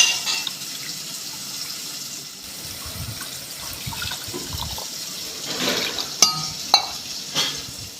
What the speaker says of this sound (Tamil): எந்த அளவுக்கு தண்ணி தேவையோ அதையும் வந்து நம்ம இதிலே வந்து சேர்த்துக்கலாம்